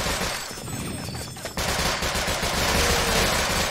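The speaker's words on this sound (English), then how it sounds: "I don't know how these zombies learned how to use freaking machine guns" Rapid bursts of machine gun fire from zombie enemies in the shooter game Sven Co-op, loud and continuous, with a brief quieter stretch before the firing intensifies.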